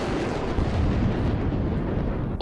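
A mortar explosion in the VR video game Crashland, a loud, dense burst of rumbling blast noise filling the clip with no clear start and fading slightly at the end.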